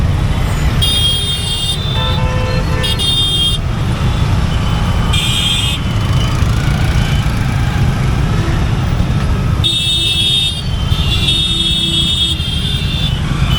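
Dense roadway rumble of idling and creeping vehicles at a crowded railway level crossing in Murshidabad, with several loud car and bus horns honking repeatedly in bursts, some long and overlapping.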